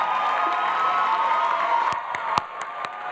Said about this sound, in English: All right, clap a little longer so I can put my robe back on.